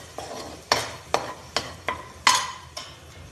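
Brinjal pieces stirred into masala frying in oil for a Marathi vangyachi rassa bhaji: a soft sizzle underneath a series of about seven crisp, close spatula scrapes against the pan at a steady rhythm.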